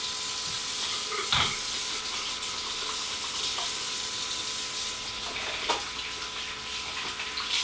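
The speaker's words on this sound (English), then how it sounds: "I'm going to wash my hands real quick." Hands washed under a running tap, a steady close rush of water that briefly splashes louder as the hands move through the stream.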